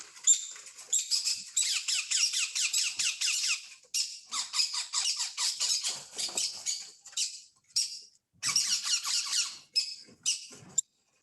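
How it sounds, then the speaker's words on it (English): Hand-raised young birds, fed by hand several times a day, give rapid, high-pitched squeaking begging calls in dense bursts that come and go over several seconds, close and fairly loud, with no talking. "that was just a clip of the birds hand feeding"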